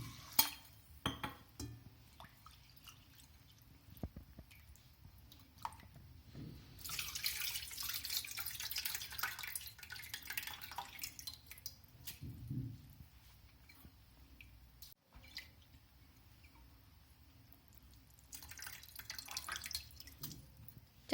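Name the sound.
rinsing soaked rice in clean water for kheer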